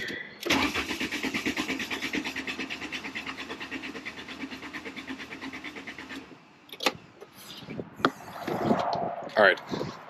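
A Mk3 VW Golf engine cranks rapidly and rhythmically for several seconds after a dose of carb cleaner, then falls quiet, followed by a few clunks and scrapes and brief voices nearby.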